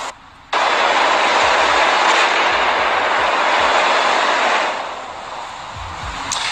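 A loud sustained roar of rapid gunfire and blasts from a military exercise over Los Angeles at night starts abruptly, rumbling on for several seconds before easing off, with a few distinct low thuds.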